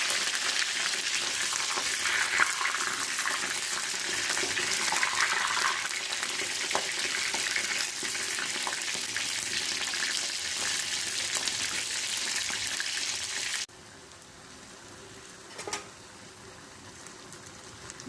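Eggplant pieces fry in hot oil in a pan for baigan kalaunji, a loud, continuous close sizzle that drops abruptly to a much quieter simmer near the end.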